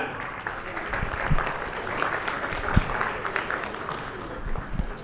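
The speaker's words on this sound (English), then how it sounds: "I want you all to give a round of applause for yourself" Audience applause at the NDTV Indian Of The Year awards ceremony, a steady broadband wash of clapping lasting throughout, moderately loud, with some crowd noise mixed in.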